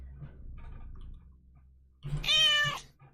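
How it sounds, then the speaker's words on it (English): A cat lets out a single loud, drawn-out meow close to the mic, coming after a stretch of low room murmur. "Why are you meowing at me?"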